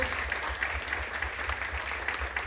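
University audience at UACM Cuautepec gives applause to the mayor of Iztapalapa, a steady, moderately loud patter of many hands with a few stronger claps and a low hum underneath.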